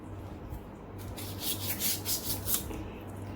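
A knife scraping the skin off a shark fish, giving a close, rough rasping in several short strokes over a low steady hum, with no talking.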